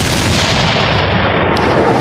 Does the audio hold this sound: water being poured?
no